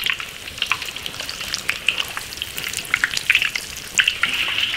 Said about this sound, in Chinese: 把豆腐的表面都炸至金黄